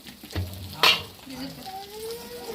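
Salted chicken bone fry is stirred in a pan, with a brief scrape of the spoon and a sharper clatter, over a steady close sizzle of frying; no voices.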